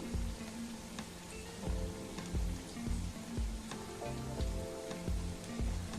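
Leftover-rice snacks frying in hot oil in a pan, a steady faint sizzle and bubbling with scattered crackles and a few soft clatters, continuous throughout, no talking.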